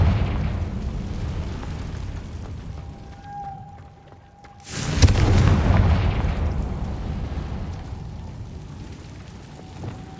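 A Confringo fire spell bursts into a sudden loud explosion in the video game Hogwarts Legacy, a sharp blast followed by a deep rumbling roar that slowly fades over several seconds.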